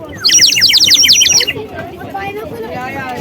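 A cheap ten-rupee toy whistle imitating a sparrow, blown in a rapid run of bright, high chirps for about a second and a half, then stopping as voices and background chatter carry on.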